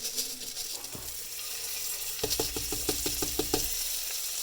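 Triple-rinsed rice toasting in oil in a pan for bacon and garlic golden rice, with a steady close sizzle and a run of quick, rhythmic scraping stirs in the second half, no talking.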